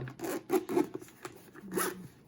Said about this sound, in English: the zipper feels, I'm gonna say cheap, just the way it's zipping. It's actually difficult to unzip